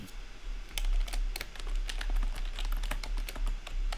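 Soft, rapid clicking from typing on a quiet laptop keyboard, steady keystrokes over a low background hum, close-up with no speech.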